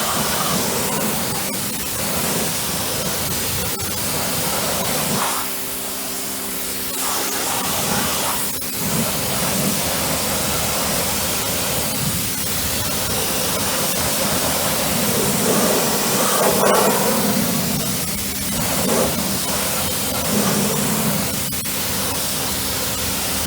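A pressure washer sprays a tyre coated with Gtechniq T1 tyre and trim dressing, giving a steady, loud hiss of water spray that runs without a break, shifting a little in tone as the jet moves.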